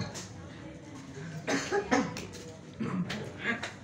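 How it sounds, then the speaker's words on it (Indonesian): A few coughs sound over a low murmur of people talking in the room, moderately close, at a tahlilan prayer gathering. "Tah eta batuk ngaran eta."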